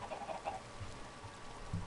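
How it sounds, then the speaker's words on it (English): Soft, low clucking of Minecraft chickens, a few short murmuring calls over a faint steady background, fairly quiet and close. "You have a lot of chickens."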